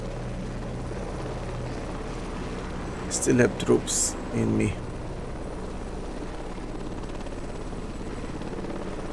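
Military helicopter in the combat game Heliborne, a slow rocket-carrying chopper, its steady rotor drone running throughout with a brief voice talking midway over it.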